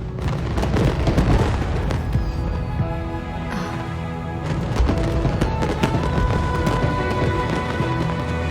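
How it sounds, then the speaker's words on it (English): Video game fireworks boom and crackle in a dense, continuous barrage with music-like tonal layers underneath, steady and loud throughout. "Way over there, a firework that looks just like a pig!"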